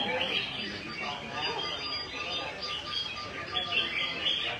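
Songbirds chirp and trill at a caged songbird competition final, a dense continuous chorus of bright calls heard amid crowd murmur and voices.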